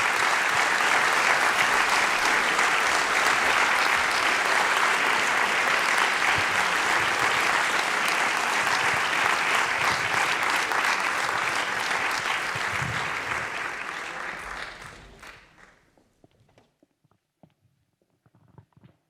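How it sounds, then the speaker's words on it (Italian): Warm, dense applause fills a hall at a national choir competition concert, holding steady for a long stretch before tapering off and dying away into near silence. "vorrei che questa sera dedicassimo a lui i nostri canti, il nostro canto e anche un caloroso applauso"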